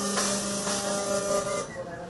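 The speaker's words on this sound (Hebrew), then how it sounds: "ובואו נעבור למדפסת השנייה, שזה השקה העולמית שלנו, שמדפיסה דג." A food 3D printer extruding a fish fillet from real fish cells gives a steady mechanical whirring hum with a faint airy hiss, running continuously and close by without speech.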